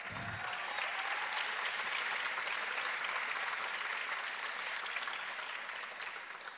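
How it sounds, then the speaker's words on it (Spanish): Sustained applause from a graduation ceremony audience, steady and dense throughout, like a full room clapping together, fading slightly at the very end. "un fuerte aplauso para todos."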